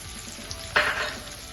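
Chopped onion drops into hot ghee and oil seasoned with cumin, setting off a sudden burst of sizzling that stays loud, then gradually settles into steady frying.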